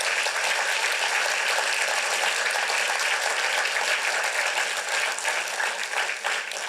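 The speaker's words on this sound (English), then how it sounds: "We also need to give another round of applause to to our steering committee" An audience at a PechaKucha Night event in Burlington claps in a steady, dense round of applause for the steering committee, sustained and fairly close throughout.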